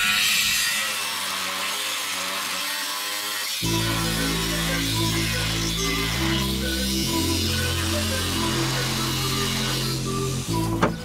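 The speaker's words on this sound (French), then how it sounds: "Il faut que je meule ce point là." An angle grinder works a weld point on a Toyota Hiace 4x4 chassis rail, making a continuous loud whine with shifting pitch that runs for the whole stretch.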